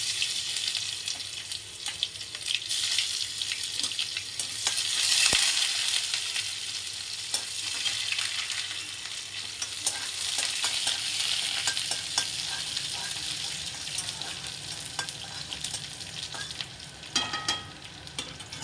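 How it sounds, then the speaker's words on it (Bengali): Chopped onions fry in hot oil with five-spice seeds, giving a steady loud sizzle that runs throughout, broken by stirring scrapes and a little water noise. "ভালো করে একটু লাল লাল হওয়া পর্যন্ত ভেজে নিয়েছি পেঁয়াজটা"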